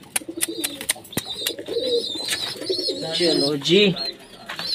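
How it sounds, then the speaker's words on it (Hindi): Domestic pigeons cooing close by in a loft on a sunny day, with soft throaty warbling coos overlapping, while someone speaks over the birds. "चलो कबूतरों बाहर निकलो"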